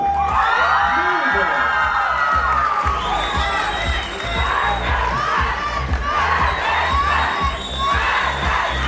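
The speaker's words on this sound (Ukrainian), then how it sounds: "Під ваші оплески" A crowd at a student autumn festival awards ceremony cheers, whoops and shouts loudly, with excited voices rising over scattered clapping in a continuous, boisterous roar.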